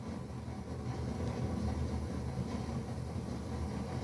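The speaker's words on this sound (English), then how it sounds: "You can ride this train all the way up there if you truly wanted to." A train in Red Dead Redemption 2 rolls along with a continuous low rumbling drone of wheels and carriages, fairly quiet and steady with no talk over it.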